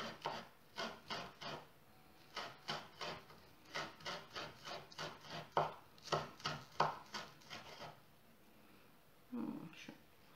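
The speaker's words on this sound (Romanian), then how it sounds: "Ceapa este bună, ceapa verde. Așa. Tăiem așa mărunțel, mărunțel." Finely chopping green onions with a knife on a board while making cream puffs filled with green onion and Philadelphia cheese: rapid bursts of close, crisp knife taps in quick rhythmic runs, with someone talking at points.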